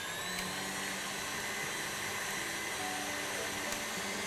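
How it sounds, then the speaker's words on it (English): An electric stand mixer whisks four egg whites for meringue, its motor giving a steady, continuous whirring hum at moderate level throughout, with no voices. "I've got 4 egg whites straight into a mixer and then set the motor going."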